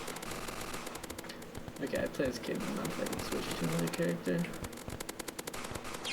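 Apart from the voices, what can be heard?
artillery explosion sound effect from indie video game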